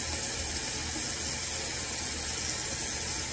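Water runs steadily from a tap while a child's hair is washed and rinsed, a continuous close rushing splash with no talking.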